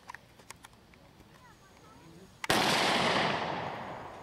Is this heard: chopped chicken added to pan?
no